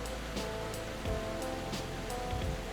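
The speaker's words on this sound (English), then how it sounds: "creating one of North America's most powerful waterfalls" Niagara Falls roars as a continuous, dense wash of falling water, broad and steady with slight surges and no voices.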